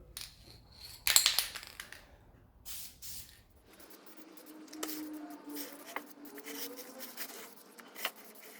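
An aerosol can sprays a first coat of paint onto a Ducati 900SS part, one loud close hiss burst followed by shorter intermittent sprays, light clicks and handling noises.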